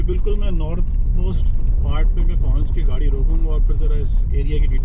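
A car drives along a mountain road in Wadi Shaam, Ras Al Khaimah, UAE, its low, steady engine and road rumble running constantly beneath someone talking throughout.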